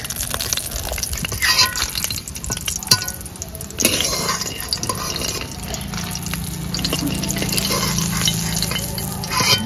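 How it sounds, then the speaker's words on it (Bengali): Kumro bori, homemade pumpkin and lentil dumplings, fry in a generous amount of oil until reddened, with a steady close sizzle broken by scraping stirs and clatter. "বড়িগুলো লাল করে ভেজে নিয়েছি।"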